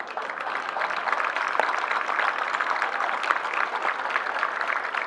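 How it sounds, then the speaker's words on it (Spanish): Sustained crowd applause at the Miacatlán carnival in Morelos, a steady dense wash of many hands clapping at even loudness throughout, with no voices over it. "brindémosle un fuerte aplauso"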